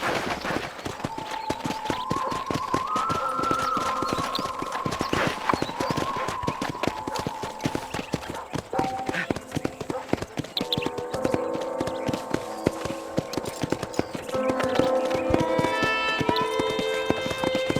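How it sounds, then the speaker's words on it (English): Rapid, rhythmic clip-clop of horse hooves at a steady run in Red Dead Redemption, close and continuous, with tonal game music and effects drifting in behind. "Get on your horse. We gotta move this along."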